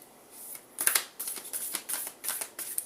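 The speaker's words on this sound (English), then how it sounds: "we're going to pull an oracle card" Oracle cards being shuffled by hand, a series of crisp riffling bursts in an uneven rhythm, close and fairly quiet with no talking.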